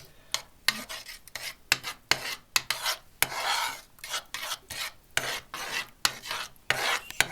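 Repeated scraping and rubbing strokes of a utensil against a pot, rhythmic and close, with short pauses between swirls; no voices.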